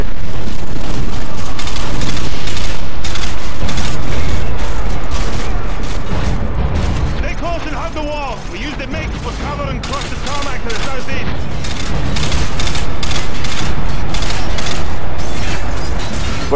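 Dense gunfire and booming blasts from the snowmobile chase mission of the video game Call of Duty Modern Warfare 2, loud and nearly continuous, easing briefly in the middle before the volley resumes.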